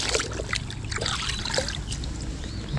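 Running water rinses a freshly caught white bass beside a roadside bridge, trickling and splashing steadily in a continuous close wash for the whole few seconds.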